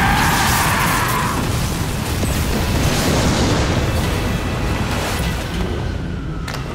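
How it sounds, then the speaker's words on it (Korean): A loud explosion, set off by a burst of electricity, booms and then rolls into a long roaring rumble of debris and fire inside a church, dense and sustained before slowly thinning. "순간적으로 발산된 전기 파장에 폭발이 일어났고"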